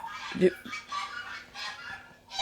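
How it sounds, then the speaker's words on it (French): Geese honk in a few short nasal bursts outdoors, mixed with other bird calls at moderate distance, with a faint voice audible at times. "Alors, on entend les oies."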